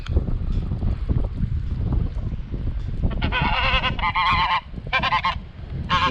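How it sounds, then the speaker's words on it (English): Several geese honk in loud, repeated bursts, nearby and outdoors, with wind rumbling across the microphone in between calls. "capture a few seconds of geese"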